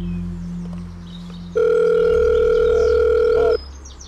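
A telephone ringback tone sounds as someone places a call, one long steady electronic tone lasting about two seconds, loud and close, following a quieter hum.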